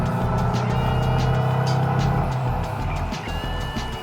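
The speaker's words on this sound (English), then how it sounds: "The exhaust is not too loud." Tuthill Porsche 356 engine and exhaust under acceleration, a steady, fairly loud in-car drone with a low buzzing note that eases slightly toward the end, with no talk.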